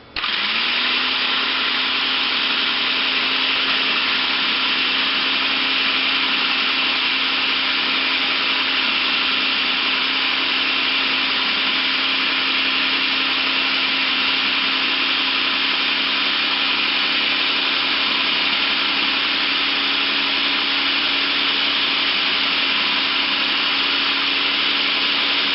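A Black and Decker food processor slices onions, its motor whining at a steady, loud, constant pitch for a long stretch with no talking over it.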